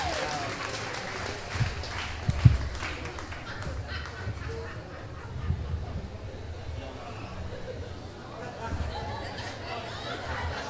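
A crowd at a live competition event in Ciudad Juárez applauds a contestant, a faint, distant patter of clapping mixed with chatter and crowd murmur, with a few louder thumps.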